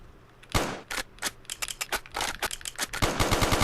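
Video game gunfire comes in rapid automatic bursts and close, sharp single shots, mixed with clicking reload sounds and a final dense rattling volley, loud and with no voices.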